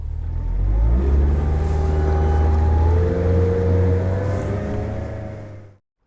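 Outboard motor on a fishing guide boat cruising across a lake, a steady loud engine drone with low harmonics holding for several seconds before cutting off abruptly near the end.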